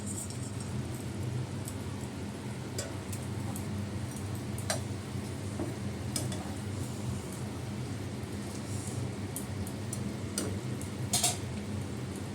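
Small amudi fish go into a drying chorchori curry in a pan, giving a steady, even sizzle close by with occasional small ticks and clinks over the continuous hiss.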